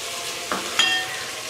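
Chicken fries in a pan with ginger garlic paste, a continuous close sizzling hiss with a couple of brief stirring scrapes.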